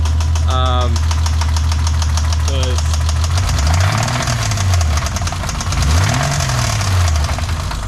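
A blown BMW M20 inline-six car engine knocks heavily while idling, then rises and falls in pitch as it is revved twice. The sound is loud and close, and brief voices are heard near the start.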